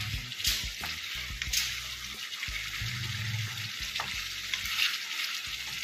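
Pointed gourd fries in oil in a pan with a steady, close sizzle and crackle, plus occasional stirring scrapes and clatters over several seconds.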